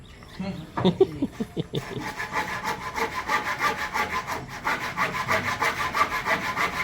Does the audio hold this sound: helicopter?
no